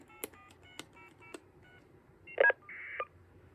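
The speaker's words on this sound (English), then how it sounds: "you can very slightly hear the call waiting beep, and then you can actually hear the FSK being sent" Faint telephone-line tones from a custom TDM switch built on Dialogic voice boards: a few brief call waiting beeps, then a short burst of warbling FSK data tone, quiet against a low background hiss.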